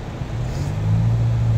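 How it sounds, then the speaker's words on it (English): A car engine hums and rises in a low rumble as a blue car pulls away from Maidstone police station nearby, growing slightly louder over the short stretch. "There's a car coming out. Blue one."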